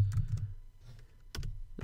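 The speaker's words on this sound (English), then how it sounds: "Let's try typing out turn right." Keys clatter on a computer keyboard while a short command is typed, with bursts of clicks near the start and again near the end and a brief lull between, close and fairly quiet.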